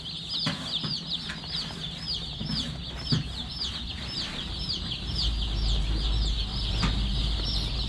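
Many newly delivered young chicks peep continuously in a brooder, a dense, steady chorus of high chirps filling the whole stretch, with occasional soft clucks and light rustling, fairly close and without any talk.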